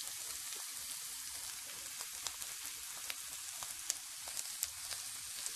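Chopped onion and shrimp frying in hot oil, a steady fine sizzle with scattered small pops and crackles, low in level with no voices.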